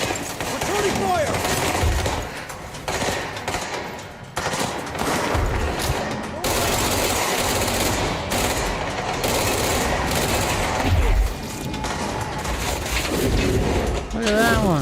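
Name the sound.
gunfire in the video game Control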